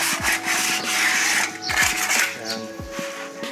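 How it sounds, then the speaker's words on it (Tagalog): Sandpaper rubbed over the brake pad of a Mitsubishi Mirage G4, close raspy back-and-forth scrapes in quick bursts with brief pauses between strokes. "lihahin, ibigay nyo rin ng kunting liha yung brake pad para lang maalis yung mga impurities nyo"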